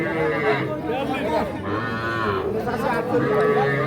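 Cattle low with several moos at a busy cattle market, with traders' voices talking around them.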